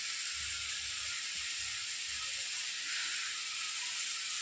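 Leafy greens cooking in a pan on a gas stove give a steady close hiss and sizzle, with a low rumbling burner flame pulsing underneath throughout; no one speaks.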